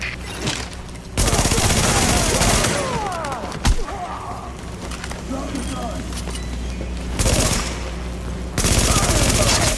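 Loud sustained automatic gunfire in The Division, heavy bursts at the start, mid-clip and end, with voices talking during the quieter gaps between volleys.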